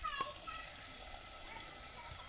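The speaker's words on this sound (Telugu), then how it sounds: "చింతపండు పులుసు ఏగిపోయినాయి కదా కొంచెం పులుసు వేస్తున్నాను" Tamarind juice is poured into a simmering Godavari-style fish curry, giving a faint, soft liquid trickle with light high-pitched tones in the background.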